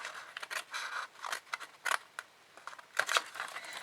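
Scissors trim paper for a small Stampin' Up jam gift box in a quiet room: a series of crisp, close snips and light scraping, spaced irregularly.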